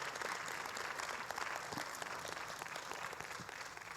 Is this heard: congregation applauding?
yes